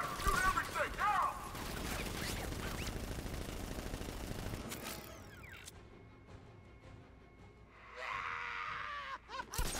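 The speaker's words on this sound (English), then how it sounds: "Guard! Open fire! Shoot everything! Now!" Guards open fire in the video game Batman: Arkham Knight, a dense crackling burst of automatic gunfire for several seconds that then drops away into quieter mechanical game sounds and a later swell of noise.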